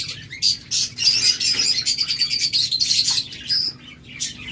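Lovebirds at a bird farm give rapid, bright chirps and tweets in close, busy bursts that overlap almost continuously, with no talking.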